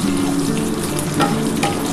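Green chillies frying in fish oil with panch phoron and bay leaves for a pui shak chachchari, giving a steady close sizzle with no talk.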